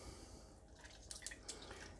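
Faint drips and trickles of water falling from soaked gelatin being squeezed, a few soft drops against a quiet background.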